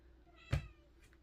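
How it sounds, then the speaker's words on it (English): A pet cat lets out a single short meow at close range over a quiet room background, with a faint second murmur shortly after. "She's meowing up a storm"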